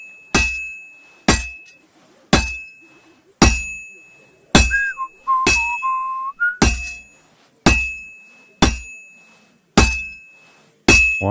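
Hammer blows ring out on a sword blade at a forge in Kingdom Come Deliverance 2, eleven loud metallic clangs at an even pace with a sustained tone between strikes and brief whistling notes in the middle.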